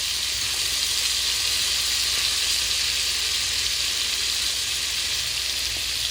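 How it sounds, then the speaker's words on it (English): Chicken wings sizzle in a frying pan on a stovetop, a steady, dense crackling hiss that holds evenly throughout, close and fairly loud with no voices. "We're going to fry them up good on this side."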